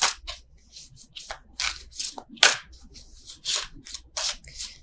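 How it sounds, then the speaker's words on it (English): Tarot cards are shuffled by hand in a string of crisp riffles and papery swishes, irregular bursts close to the listener with brief quiet gaps. "I don't know why I'm still shuffling these."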